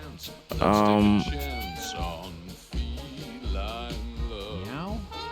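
Cartoonish cat meows from the video game Mewgenics, several drawn-out, pitch-bending cries in a row, loud and close, with a man's speech mixed in.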